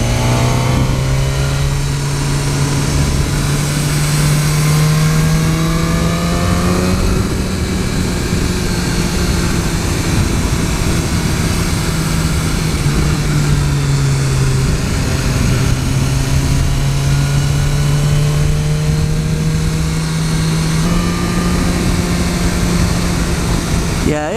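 A 2015 BMW S1000R naked motorcycle's engine drones steadily and loud while riding, its pitch slowly rising and falling through gear changes, with wind rush underneath the whole time.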